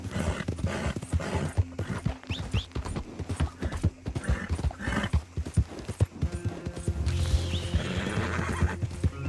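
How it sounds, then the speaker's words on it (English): A horse whinnies loudly while hooves clip-clop in a quick, uneven rhythm in the video game Red Dead Redemption 2, followed by a louder stretch of movement and snorting. "Damn horse."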